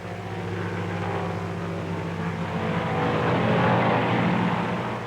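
A military airplane flies low and fast past its objective, a steady loud engine drone with a low hum that swells slightly as it draws nearer.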